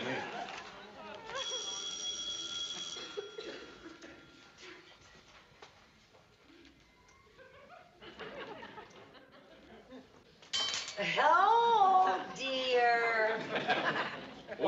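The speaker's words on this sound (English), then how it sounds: "The phone, excuse me." An old telephone bell rings in a 1960s sitcom home setting, a bright ringing burst early on, followed by quiet shuffling, then people speaking and laughing loudly near the end.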